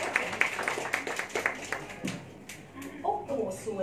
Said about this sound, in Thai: ขอเสียงปรบมือให้กับคำทำนายนี้อีกสักครั้งนึงค่ะ